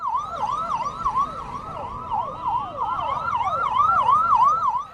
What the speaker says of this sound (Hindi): केजरीवाल को जेल ले जाती पुलिस या गाड़ी के हूटर की आवाज